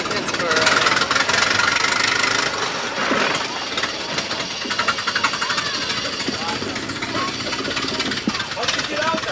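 Engine of a restored Velie car running, a loud rough chugging rhythm with metallic knocking, close by, while people talk over it.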